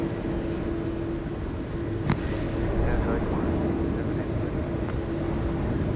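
Airliner on runway 16 right at Sydney Airport, a loud steady broadband jet roar with low rumble and a single sharp click partway through.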